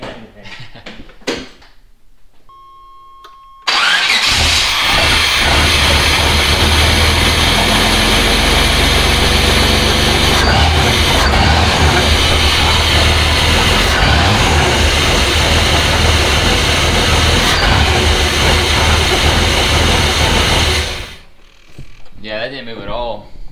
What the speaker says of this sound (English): I'm gonna fire it up and rev it, and we'll see how much it moves